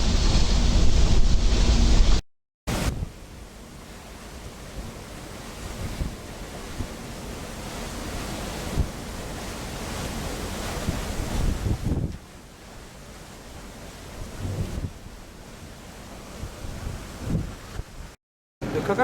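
Surf rolls onto the beach at Motu Mahana in French Polynesia, a broad steady wash heavily buffeted by wind noise on the microphone, with brief dropouts.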